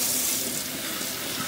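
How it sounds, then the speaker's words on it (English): Water runs from a tap into a sink in a continuous close splashing hiss, steady and loud with no voices over it. "turn the tap on"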